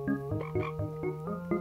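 Frogs croak in quick repeated bursts, a steady rhythmic series of close, resonant calls with no talking.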